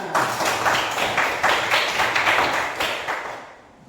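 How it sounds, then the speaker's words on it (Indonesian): Classroom of children clapping hands together in a burst of dense, rhythmic applause, loud and close, fading out toward the end. "Oke, kita tepuk tangan."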